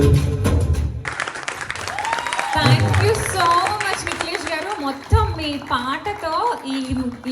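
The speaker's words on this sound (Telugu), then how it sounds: "మరి ఏంటి ఆ చప్పట్లు ఏంటండి, ఆ కొట్టడం గట్టి కొట్టండి" Audience applause and clapping fill a live concert hall in London at a tribute show, a dense sustained roar running under loud amplified music and voices throughout.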